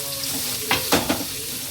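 Onions frying in a pan for biryani, a steady close sizzle with a few brief stirring scrapes near the middle, no voices.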